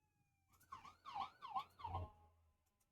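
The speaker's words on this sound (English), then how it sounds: "There might be a siren that comes through in just a minute." An emergency siren wails along a town's main road, several rising-falling sweeps in quick succession, fairly faint and distant with a low vehicle rumble beneath.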